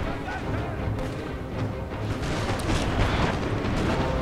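Battlefield cannon and artillery fire from a Napoleonic-era strategy game, the Battle of Dresden, with a sustained rumbling roar of booms and distant explosions building steadily louder, overlaid with continuous battle noise.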